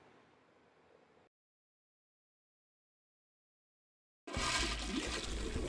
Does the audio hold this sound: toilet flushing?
yes